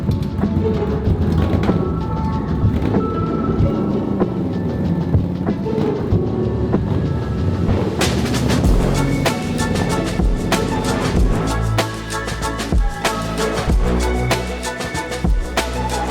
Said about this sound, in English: Look at these motorcycles thundering down to turn number 1.